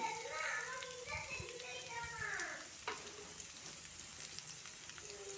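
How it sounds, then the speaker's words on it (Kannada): Garlic, onion and fennel seeds fry in hot oil in a pan, giving a steady close sizzle while a voice talks over it and a voice is faintly heard. "ಒಂದು ಬಾಣಲಿಗೆ ಎಣ್ಣೆ ಹಾಕ್ಕೊಂಡಿದ್ದೀನಿ ಎಣ್ಣೆ ಬಿಸಿ ಆದಮೇಲೆ ಬೆಳ್ಳುಳ್ಳಿ ಹಾಕ್ಕೊಂಡಿದ್ದೀನಿ"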